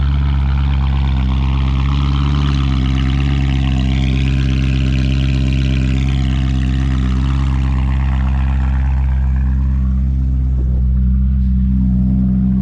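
A loud, deep V8 engine of a BMW E93 M3 idles steadily with a heavy, uneven rumble, close and with no muffler, holding for several seconds without talking.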